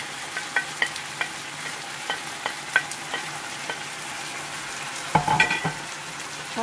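Liver stir-fries with wild garlic flowers and ginger in a hot pan. It sizzles steadily under regular taps of a utensil against the pan, followed by a brief, louder clatter near the end.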